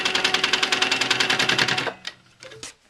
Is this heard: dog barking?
no